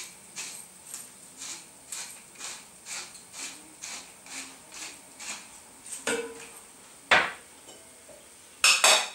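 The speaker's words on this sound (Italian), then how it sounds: "Cominciamo mettendo le nostre costicine dentro una pentola a pressione." Repeated light clinks of pork ribs placed into a metal pressure cooker, steady and close, followed by a couple of louder clanks of metal near the end.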